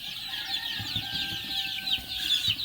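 A large flock of chicks, around sixteen hundred, peeps and chirps in a dense, continuous high-pitched chorus, with soft clucking and shuffling underneath.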